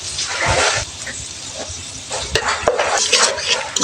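Spice paste of ground ginger, cumin, garlic and chilli with salt and turmeric sautéed in oil for a prawn malai curry, heard as close bursts of sizzling with scraping stirring strokes and a few sharp knocks.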